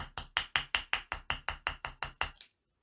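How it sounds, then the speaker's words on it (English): Thirteen steady hammer blows strike metal wire for a wire-wrapped gemstone ring, ringing sharp and close in an even rhythm before stopping abruptly. "what does hammering do?"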